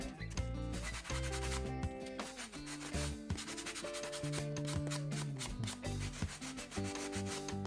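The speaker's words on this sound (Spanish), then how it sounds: "Que también se lija fácil." Rough, rhythmic sanding and scraping of hardened type 3 plaster, close and fairly quiet, in repeated strokes with some steadier tonal squeaks between them.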